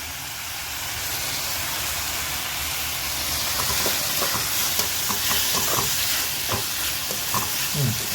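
Tomato and potato curry stirred in a pan, a steady frying sizzle with repeated scraping strokes of the spoon growing more distinct toward the end.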